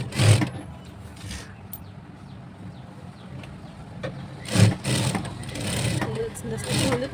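An older-model sewing machine runs steadily, stitching along the edge of a saree, its motor humming close by with a few sharper bursts while a voice speaks over it.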